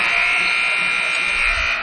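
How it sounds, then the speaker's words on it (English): A loud, sustained electronic buzzer blares continuously for nearly two seconds, marking the end of the first quarter in a high school basketball game between the Grizzlies and Topeka West, with faint crowd noise underneath. "At the buzzer, Zion Jones gets it."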